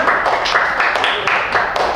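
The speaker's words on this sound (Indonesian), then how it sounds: "tepuk tangan buat anak-anak kelas 6" A classroom of sixth-grade children claps together in steady, close, lively applause for about two seconds.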